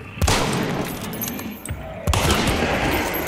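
Gunfire in Hunt: Showdown: a few loud, close shots and bursts ring out and echo over a busy game soundscape, with a sharp blast near the start and another about two seconds in.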